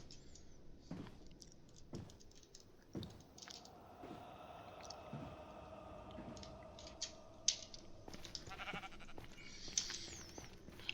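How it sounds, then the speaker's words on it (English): A sheep in a Minecraft-style video game bleats a few times amid soft game sounds and scattered clicks, fairly quiet and with no speech. "That sheep is always there."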